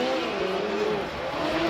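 A Trophée Andros race car on the 2011/2012 Andorra circuit accelerates with a sustained, droning engine note that wavers and climbs slightly, close and loud, with no voices heard.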